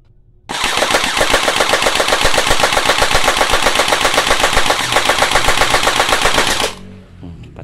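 A green M416 gel blaster toy gun fires on full auto: a fast, steady, rattling burst of rapid shots that runs loud and close for about six seconds before stopping abruptly, with no talking.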